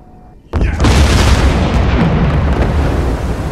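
A torpedo detonates inside a ship in Silent Hunter 4, a sudden loud boom bursting in after a quiet moment and rolling on as a heavy, sustained rumble.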